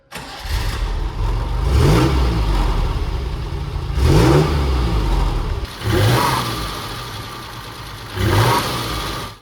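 A carburetted 90-degree Maserati V6 in a Citroën SM revs up four times in close succession, each loud rising blip of the engine falling back between pulls, heard close with no talk over it.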